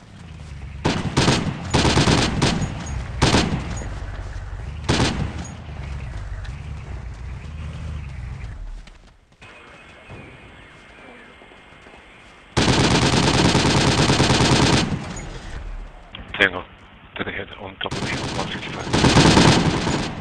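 Loud bursts of automatic gunfire in the Project Reality game during an infantry convoy, with repeated rapid volleys, a quieter stretch of wind and engine hum, then sustained heavy firing resuming near the end.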